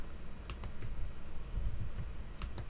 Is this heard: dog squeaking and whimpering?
no